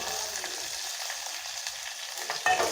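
Curry leaves and garlic fry in a little oil over low heat, a steady close hiss of sizzling that continues without a break, with a brief clatter near the end.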